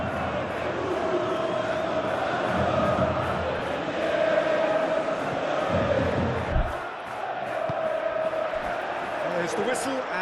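A football stadium crowd at an Atletico Madrid vs Tottenham Champions League match roars in a dense, continuous wash of chanting and noise, with commentators talking over it throughout.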